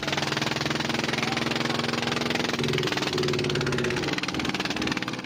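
Fishing boat engine running steadily and loud throughout, with a continuous droning hum near Filipino soldiers' inflatable boat by BRP Sierra Madre during a chase.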